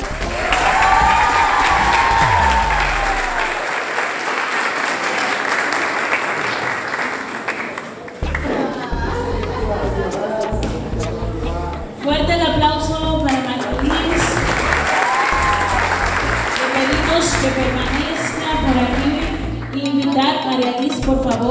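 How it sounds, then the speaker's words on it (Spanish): An audience applauds loudly at a ceremony honoring a top Dominican student, a dense sustained clapping that fades after several seconds, returns, and runs under a speaking voice. "vamos a dar otro fuerte aplauso"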